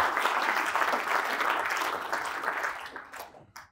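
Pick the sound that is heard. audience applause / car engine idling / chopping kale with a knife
audience applause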